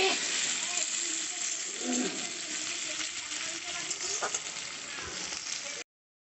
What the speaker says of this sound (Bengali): পেঁয়াজটা ভাজা হয়ে গেছে, রসুনের খুব সুন্দর গন্ধ ছাড়ছে